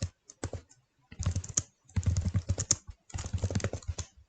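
Fast typing on a computer keyboard, entering an event title in a Google calendar app, in three close bursts of dense key clicks with short pauses between them, no voices.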